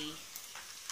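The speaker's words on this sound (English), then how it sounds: "So in goes my green onions." Green onions fry in a pan for fried rice, giving a soft, steady sizzle with a few brief louder crackles, close but fairly quiet and with no talking.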